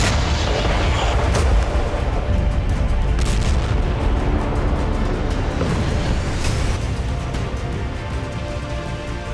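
A Russian brigade's artillery strike on Ukrainian positions comes through as a continuous dense rumble of booms and blasts, loud and sustained throughout with no talking.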